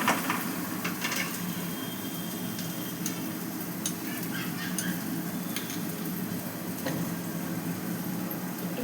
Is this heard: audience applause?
no